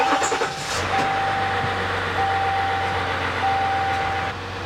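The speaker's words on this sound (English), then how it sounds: "let's start the truck up, see how it sounds." A 2022 Dodge Ram EcoDiesel truck engine runs at a steady, close idle with a low hum and a faint whine above it, after a brief rumbling start at the beginning.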